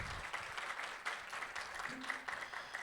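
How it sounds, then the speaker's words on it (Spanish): Audience applause at a university public accounting alumni reunion, steady moderate clapping from a room of people with rhythmic pulses, heard alone without talk over it. "Nuevamente, por favor, un fuerte aplauso para Lilia Betancourt"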